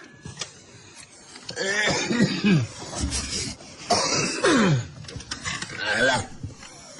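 A person coughs and clears the throat several times during a Sundanese storytelling broadcast, close and moderately loud, with rasping, voiced bursts spread across about seven seconds.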